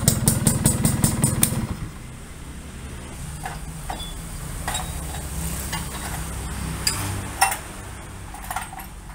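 A restored Yamaha V80 motorcycle engine, modified in classic style, idles with a rapid, loud putter at first, then drops to a quieter, uneven running hum with a few clanks nearby.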